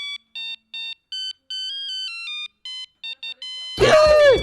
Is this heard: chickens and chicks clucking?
no